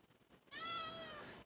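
A cat gives a single drawn-out, clear meow close by, rising and then fading, heard in an otherwise quiet room.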